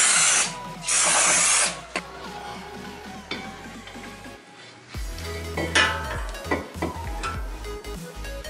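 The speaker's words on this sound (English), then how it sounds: "always remember to clean it with a brake cleaner, because it has a lot of oil" Brake cleaner sprayed onto a new brake rotor for a front brake job on a VW Touareg V8, with two loud close hissing bursts early on, followed by metallic clinks and handling noises.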